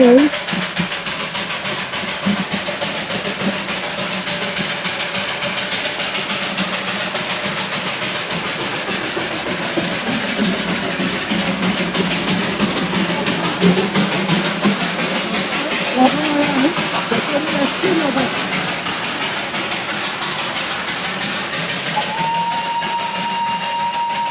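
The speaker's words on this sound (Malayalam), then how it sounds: "ട്രെയിൻ വരുന്ന വ്യൂ ആണ് നിങ്ങൾ കാണാൻ പോകുന്നത്" A train passes near Darjeeling, a long rumbling roll with hissing and faint clacking that swells through the middle, with people talking in the background and a brief tone near the end.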